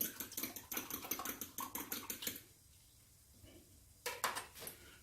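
Eggs whisked briskly in a bowl for creamy scrambled eggs, a rapid run of clattering taps against the sides for about two seconds, then a pause and a short second burst.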